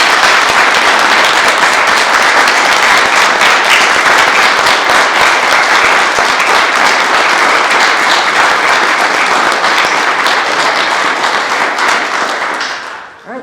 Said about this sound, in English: give them a round of applause, if you wouldn't mind one more